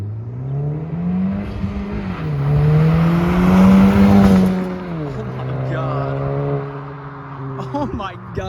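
A 2018 Honda Civic Si with a catted downpipe drones as it approaches, revs louder while passing close, then fades into a lower hum as it moves away.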